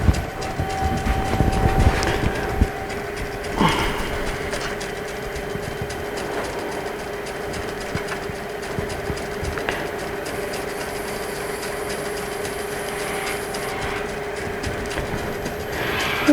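A woodturning lathe running steadily while a tool machines a tenon into the base of a wooden bowl, a loud continuous motor hum with rough scraping noise, heaviest at the start, no talking.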